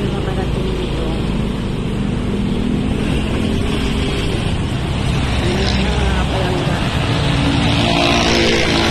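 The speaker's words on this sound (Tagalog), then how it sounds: "Sobrang traffic." Heavy road traffic on a congested road under repair, with a steady loud rumble of engines and tyres throughout and a broadband roar that never lets up.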